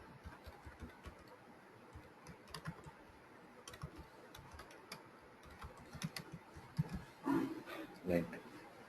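Computer keyboard keys clatter in irregular bursts while a script is typed, faint under low background noise, with a few louder knocks near the end.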